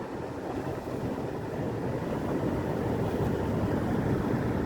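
Steady low roar of all-terrain tires on pavement heard from inside a moving Subaru Forester, a constant broadband rumble with no voices.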